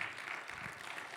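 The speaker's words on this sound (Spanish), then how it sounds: "¿Cuánto le dan un fuerte aplauso al Señor?" Quiet applause from a congregation at a church theology class, a faint, steady patter of clapping with no speech.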